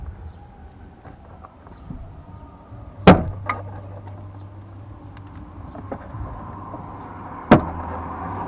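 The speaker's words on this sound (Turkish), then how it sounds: "Ve tutan tırnaklar tek tek atıyor arkadaşlar." Plastic retaining clips on a Toyota Corolla driver's door trim panel snap loose, two sharp pops about four seconds apart over a low background rumble.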